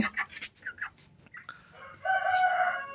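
On a broiler poultry farm, chickens cluck in short, close bursts before a rooster lets out a loud, drawn-out crow.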